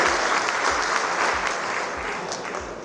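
Audience applause at a Hindi-Urdu kavi sammelan poetry recital, a dense, steady roar of many hands clapping that holds at full strength throughout and eases only slightly toward the end.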